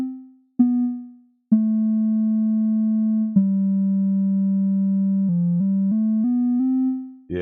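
Sustained sine-like synthesizer tones from VCV Rack played legato, gliding from one pitch to the next with no envelope re-trigger, so the notes blend smoothly without fresh attacks, in a clean, steady line of about seven seconds.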